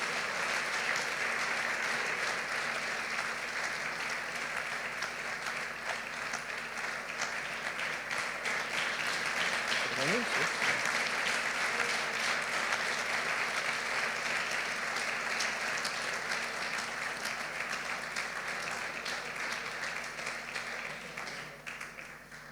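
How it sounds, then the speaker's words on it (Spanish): A church congregation at a special anniversary service applauds a longtime Sunday school teacher, a long, steady wash of clapping that stays even and full for over twenty seconds before easing slightly at the end. "Un aplauso a ella."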